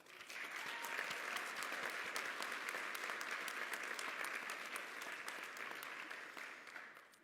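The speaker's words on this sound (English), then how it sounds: "Let's give them a round of applause." Dense, sustained clapping from an awards-ceremony audience honoring fundraisers, even and fairly distant, swelling slightly before tapering off at the end.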